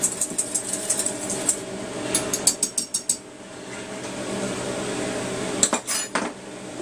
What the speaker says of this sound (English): And keep on beating the hell out of it until it's all nicely mixed.